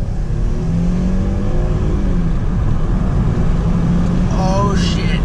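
A Mercedes car engine hums loudly from inside the cabin with a low steady drone, and its pitch climbs in short revs near the end. Someone talks faintly over it.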